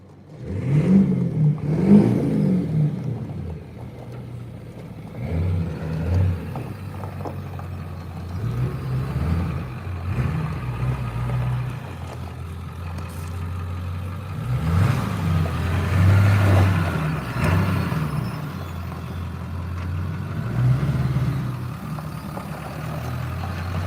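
A 7.3 diesel truck engine revs up repeatedly, deep rumbling surges rising and falling over a steady low idle, close and loud throughout.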